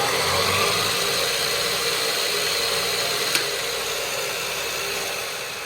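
A belt-driven workshop machine runs with a steady, loud whirring hum and constant vibration, broken only by a single faint click midway, with no voices.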